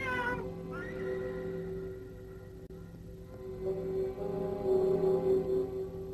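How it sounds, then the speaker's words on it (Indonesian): A cat meows in a drawn-out, wavering cry, then breaks into a longer, louder, rising caterwaul in the second half, heard close and clear over a quiet room tone with no talking. "rupanya kucing ini telah mengganggu perjalanan Anda"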